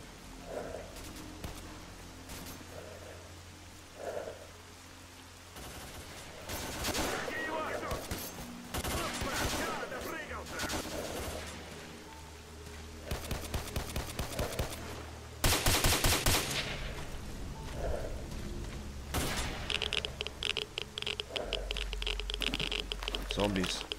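Distant gunfire in S.T.A.L.K.E.R.: Call of Pripyat with the Misery Mod 2.2 on PC: scattered shots and bursts of automatic fire come and go, heavier toward the end, mixed with game ambience and someone talking.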